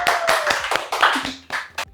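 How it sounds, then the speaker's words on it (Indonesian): A few hands clap in an uneven rhythm during an Indonesian podcast, roughly eight sharp, close claps spaced irregularly with short gaps. "Tepuk tangan dong."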